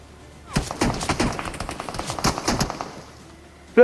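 Rapid bursts of automatic gunfire ring out in a battle royale video game, several sharp volleys in quick succession at close range.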